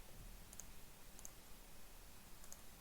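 Computer mouse clicking while working in After Effects, three faint, sharp single clicks spaced roughly evenly over a low background hiss.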